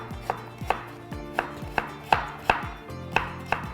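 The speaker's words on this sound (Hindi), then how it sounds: "गाजर को भी बारीक बारीक काट लेना" A knife finely chops carrot on a board in quick, regular crisp thuds about every third of a second, close and dry with no voices.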